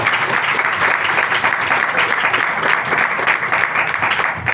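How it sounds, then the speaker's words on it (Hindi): A congregation at a church service claps steadily in a dense, continuous round of applause, loud and close throughout with faint voices underneath. "जोरदार तालियां बजाएंगे"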